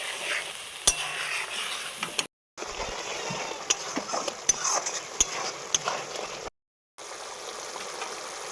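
Mustard and sesame paste sautéed in hot oil for a Bengali rui fish curry gives a steady sizzle with scraping spatula strokes and small pops, close and continuous, broken by two brief silent gaps.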